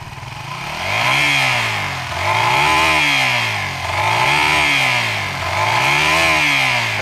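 A Suzuki FU 150 motorcycle engine, fuel-injected with a Kawasaki Ninja 250 mono injector and bored up to 68 mm (177 cc), runs loud and close with a rhythmic, repeating rise and fall in pitch.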